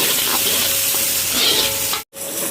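Onions, curry leaves and dried red chillies sautéing in a pan give a steady close hiss and sizzle, with a brief cut near the end before the frying noise resumes.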